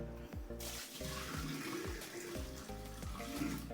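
Water rushes and gurgles down a freshly unclogged bathroom drain in a home comfort room, a steady close wash with swirling, bubbling drainage throughout.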